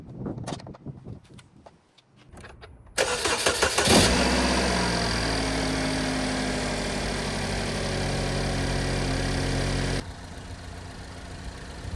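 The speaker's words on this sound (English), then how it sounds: "go ahead and start it up" A 2017 Chevy Equinox's engine, just fitted with a new alternator, cranks briefly after a few clicks, then catches and settles into a steady, fairly loud idle for several seconds before the level drops.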